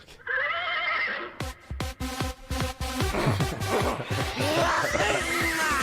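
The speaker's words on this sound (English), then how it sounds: "a video where a horse just plays dead and like topples over" A horse neighs and whinnies loudly in a video played back through a small speaker, followed by a busy stretch of shuffling and clattering noise.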